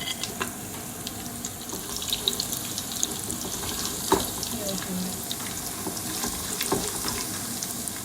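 Cashews and raisins fry in hot oil for a prawn biryani, giving a busy, crackling sizzle with occasional stirring knocks close by; no speech is heard over the frying.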